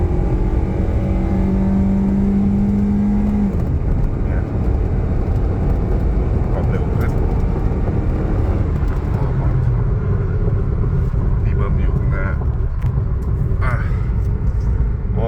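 A remapped Toyota Vios Gen 2 accelerates through its gears, its engine rumbling loudly and steadily with rising tone and a brief shift dip, while someone talks over it.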